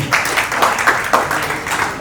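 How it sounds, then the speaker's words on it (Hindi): An audience claps at a ceremony honoring candidates selected for the UP police, rapid scattered claps close by, filling the whole short stretch at a steady level. "तो भाई अब एक बार जोरदार ताली बजाएं उनके लिए"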